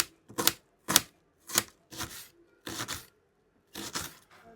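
Knife finely chopping onion on a cutting board: six or seven crisp, separated chopping strokes in an uneven rhythm, close and clear, with quiet gaps between them and no talking.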